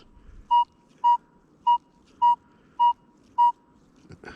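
A Deus 2 metal detector sweeping over a dime buried 4.75 inches deep gives six evenly spaced, clear mid-pitched beeps about half a second apart, over a faint background hiss.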